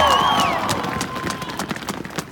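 A large crowd at a March For Our Lives rally in Rochester, Minnesota, cheering with whistles and shouts at the start, then dissolving into scattered clapping that fades over a couple of seconds.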